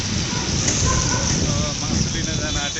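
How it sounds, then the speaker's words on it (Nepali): Heavy rain pours down on a street near a bus stand in Nepal, a dense, loud and unbroken hiss close around, with possible voices faint beneath it. "पानी पर्छ"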